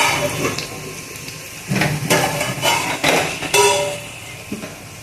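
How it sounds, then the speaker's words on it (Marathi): A metal lid clanks onto a pot of cooking spinach and dill greens in a home kitchen, giving several sharp clinks and rattles close by. "इकडं भाजीवर झाकण ठेवून द्यायचं"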